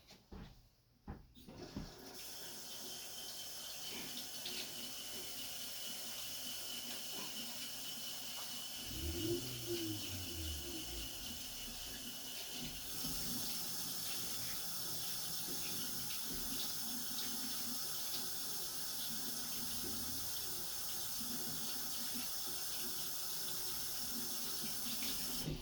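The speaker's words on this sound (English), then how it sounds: "I'm going to just wash my hands" Tap water runs steadily into a sink for hand washing in a home kitchen where ground venison burgers are being marinated, a continuous close hiss and splash with brief handling knocks.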